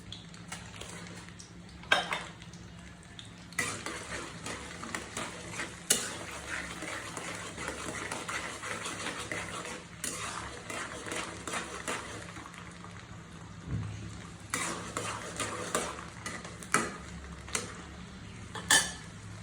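Panch phoron spices fry in oil for an olive pickle, a faint, steady sizzle broken by repeated scrapes and stirring clatters of a spoon against the pan, some louder knocks spaced throughout.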